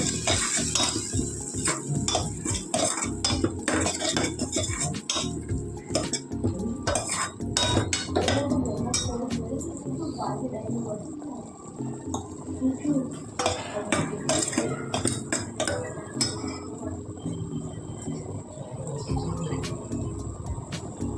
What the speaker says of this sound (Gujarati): બધું સરસ રીતે આપણે હલાવી દઈશું